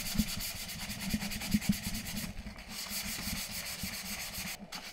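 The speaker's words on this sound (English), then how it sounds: "So you can sand this down." Sandpaper is rubbed by hand over dry spackle patched into a wall, making a series of close, rhythmic scratchy strokes. The scraping is fairly soft and repeats steadily with no talking.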